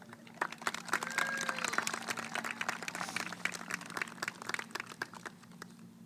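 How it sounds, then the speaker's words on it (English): Applause from a crowd in the stands at a school district graduation ceremony, a dense, steady wash of clapping that holds at a moderate level for several seconds and then thins slightly. "Give them a round of applause"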